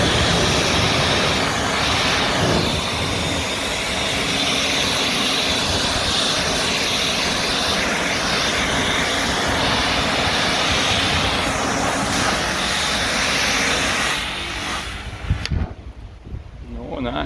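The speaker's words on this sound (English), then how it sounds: "So I will try this nozzle and swirl Karcher K5 Compact" A Karcher K5 Compact pressure washer with a swirl nozzle blasts dirt off a house roof, a loud, steady broadband hiss and spray roar running continuously before cutting off near the end.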